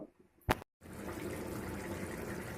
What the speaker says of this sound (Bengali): এটাকে এখন বেশ পাঁচ সাত মিনিট আমি ফোটাবো টকবক টকবক করে জোরে ভলিউমটা বাড়িয়ে দেবো